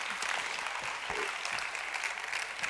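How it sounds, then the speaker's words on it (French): Faint, steady audience applause at an innovation award ceremony honoring jury members, clapping continuous and somewhat distant for the short stretch. "François, Christelle, Christophe, Benoît, on peut les applaudir"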